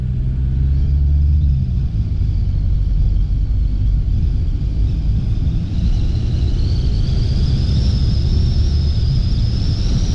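Car driving across Lake Nona, Florida, a loud steady low road rumble and tire noise from inside the cabin, with a faint rising whine later on.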